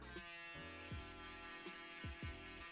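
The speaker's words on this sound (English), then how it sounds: "now grab your shaver." A barber's electric shaver hums close up with a steady buzzing drone, its pitch dipping and sliding several times as it is handled, with no talking.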